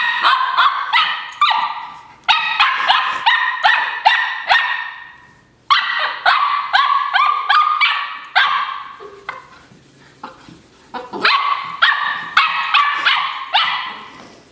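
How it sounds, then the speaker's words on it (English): A dog barks repeatedly in quick rhythmic bursts, loud and close, with brief pauses between volleys. "Why does she have to bark?"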